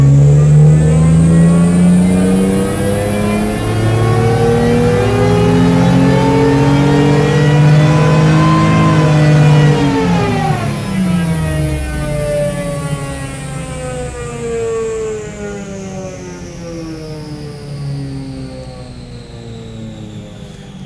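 A car engine at full throttle during a tuning run with an AEM Infinity engine management system, a loud, steady roar that climbs in pitch for about ten seconds, then winds down and fades.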